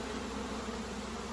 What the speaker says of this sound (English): Then you can see all the bees just flying around